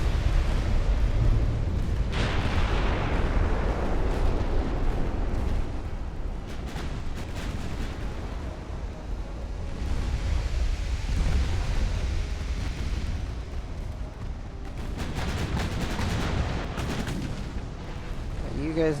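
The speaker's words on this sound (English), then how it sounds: "Ammunition detonation" Ammunition detonating aboard a warship during a naval battle in Ultimate Admiral: Dreadnoughts, a heavy rumbling explosion with rolling booms and continuing battle gunfire, with voices talking over it.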